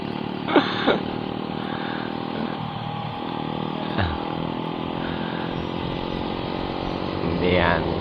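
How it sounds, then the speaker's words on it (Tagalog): A motorcycle engine holds a high, steady idle with a couple of sharp revs rising and falling, while people talk nearby. "Ang taas ng minor ng motor niya."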